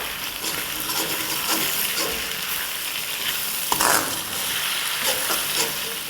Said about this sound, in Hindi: एक मिनट इसके साथ हरी मिर्चों और लहसुन के साथ सौटे करेंगे